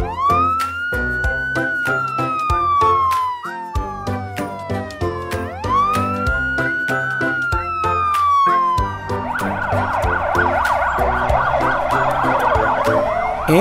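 An ambulance siren rises and falls in repeated sweeping wails, then switches to a rapid warbling yelp. It is loud and close, with a busy mix of tones and no talking.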